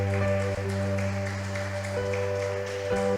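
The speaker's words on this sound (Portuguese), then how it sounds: "Você pode aplaudir o Senhor, amém?" A church congregation applauds at a Portuguese-language evangelical service, a dense, steady wash of clapping that fills the room continuously over a low hum.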